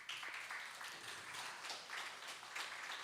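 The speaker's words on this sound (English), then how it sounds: "You can clap for her." Faint, scattered clapping from an audience at a debate finals event, a thin patter of hands that stays distant and quiet throughout.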